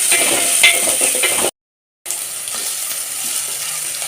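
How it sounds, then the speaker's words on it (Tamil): Onions sauté loudly in hot oil in a pan for a Tamil dal curry, a steady close sizzle with a brief silent break partway through. "வெங்காயம் நல்லா வதங்கிடுச்சு."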